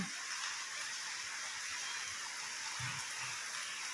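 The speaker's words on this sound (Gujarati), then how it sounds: "બહાર તો હવે વરસાદ ચાલુ છે" Rain falls outside a home as a steady, soft, even hiss of drops, heard from indoors at moderate distance. It continues unbroken with no voices.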